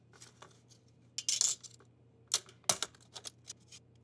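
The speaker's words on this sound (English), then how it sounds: "So I'll just run a palette knife around the inside of the cake to loosen it." A palette knife is run around the inside of a metal cake pan holding a dense Italian pine nut cake, making sparse, close scraping clicks and short metallic rasps with quiet gaps between them.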